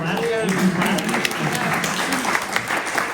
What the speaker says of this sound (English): So, yes, clap.